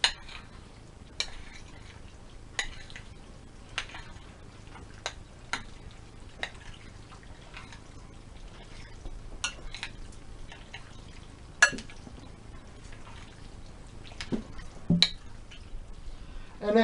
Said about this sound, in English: we're going to go ahead and mix it all together